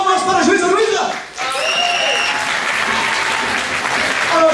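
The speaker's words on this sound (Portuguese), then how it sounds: "Palmas para a juíza Luísa." Applause from a theater audience at a stage wrestling-scene show, a steady dense clapping that dips briefly and swells again, with a voice speaking over it.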